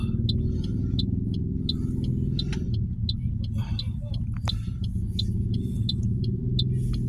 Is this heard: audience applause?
no